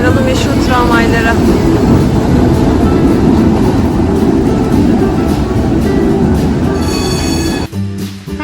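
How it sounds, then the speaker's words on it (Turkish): Budapest's famous number two tram rumbles past close by, a loud, steady rolling clatter with metallic squeals, ending in a brief clunk near the end. "İki numaralı meşhur tramvaylara."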